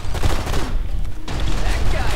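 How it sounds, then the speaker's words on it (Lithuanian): Bursts of enemy gunfire in the video game Blacksite: Area 51 crackle loudly and rapidly, with a brief lull in the middle before the shooting resumes. "Va, iš kur jis šaudo"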